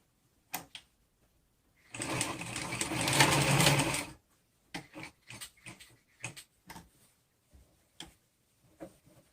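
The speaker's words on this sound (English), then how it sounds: "And you have to use this ribbon and sew the other side to the bottom." A sewing machine runs in a fast burst for about two seconds, stitching ribbon onto a homemade fabric face mask, followed by scattered light clicks and handling taps in a quiet room.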